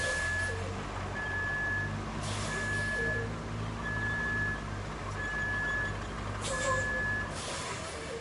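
In the Roadcraft video game, a hauling truck turns and backs up: a steady diesel rumble under evenly spaced reversing beeps, with two short hissing air-brake bursts.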